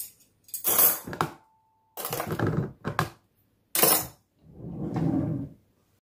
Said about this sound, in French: Je vais débarrasser la vaisselle aussi que j'avais lavé à la main.